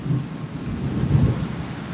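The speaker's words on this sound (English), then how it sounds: "it's raining" Rain pours down during a thunderstorm over a garden of bell pepper plants, a loud, continuous rushing wash with low rumbling underneath, heard alone with no voices.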